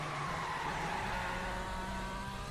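Formula One cars, among them a McLaren MCL38, Mercedes W11 and Ferrari F2004, in a racing video game at Japan's circuit, tyres screeching under late braking into a hairpin, a steady loud wash of engine and tyre noise with no talk.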